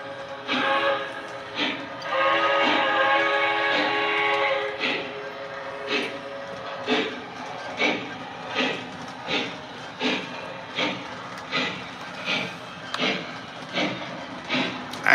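A model steam train runs with a steady rhythmic chuffing, evenly spaced puffs over a mechanical hum, fairly close and loud, with no voices.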